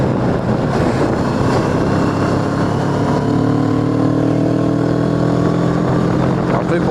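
A CF Moto 400NK motorcycle rides along, its engine droning steadily with a rising pitch as it accelerates, wind noise around it and a rider talking over it.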